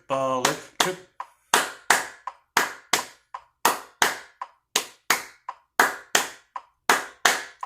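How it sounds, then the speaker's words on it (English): Sharp percussive metronome clicks repeat in a steady, slightly uneven triplet pattern, each a crisp transient with a quick decay, heard alone without talk. "Let's listen to that with the metronome."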